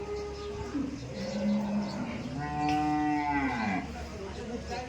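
A young two-tooth dairy calf lets out a drawn-out, low moo nearby, rising and falling in pitch, over a faint background hum.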